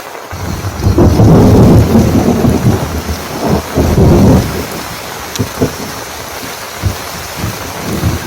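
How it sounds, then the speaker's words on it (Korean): A sudden downpour with thunder during crucian carp fishing outdoors: a loud, rolling rumble of thunder over steady hissing rain, then scattered heavy raindrops tapping nearby, with no voices. "갑자기 비가 내리기 시작한다"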